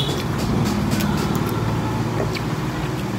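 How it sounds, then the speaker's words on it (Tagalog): Roadside traffic rumbles past, a continuous low droning wash of passing vehicles, loud and close with no break. "Kaya maririnig nyo talaga yung ugong ng mga sasakyan mga bi kasi nga nasa tabing lang siya."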